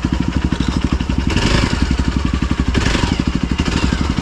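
An off-road vehicle engine drives down a slope near Kethanahalli Falls, a loud, steady mid-pitched throb with rapid regular firing pulses and brief revving swells, close and continuous throughout.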